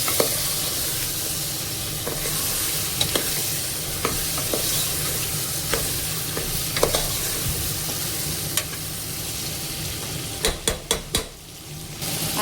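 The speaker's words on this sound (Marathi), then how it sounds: "भाज्यांना छान मिक्स करून घेऊयात एकदा मसाल्यासोबत." Vegetables (capsicum, peas, carrot and potato) are stirred with masala in a pressure cooker, giving a steady sizzle under scattered spoon scrapes and clicks, with a burst of sharp knocks near the end.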